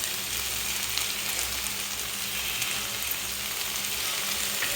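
Vegetable rice masala with green chillies frying in a pan: a steady, dense, close sizzle that stays even throughout, with no pauses.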